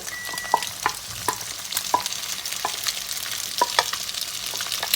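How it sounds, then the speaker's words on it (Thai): Rice noodles being stir-fried for pad see ew in a hot pan, steady sizzle with repeated scraping and clinking strokes of a spatula, close and continuous. "เสร็จแล้วเราใส่เส้นลงไปเลยนะคะ"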